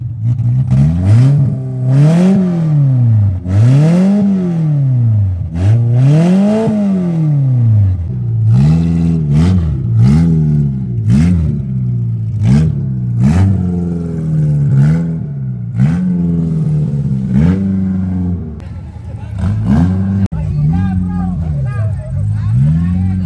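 Car engine revving hard over and over at a car meet in Subic, pitch sweeping up and down in steady cycles, with a crowd murmuring in the background.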